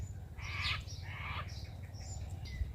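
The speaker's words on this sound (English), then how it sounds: "That was a little cockatoo." A small cockatoo gives a few short squawking calls at moderate distance, over a steady low background hum in an indoor room.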